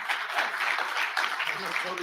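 Audience members at a business transformation conference clapping lightly, a soft, dense patter of hands that runs steadily for about two seconds without a clear peak.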